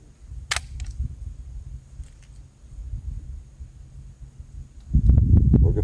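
A Crosman Legacy 1000 air rifle fires a single sharp crack early on at a 10-inch gong, followed by low outdoor rumble and quieter handling clicks and knocks toward the end.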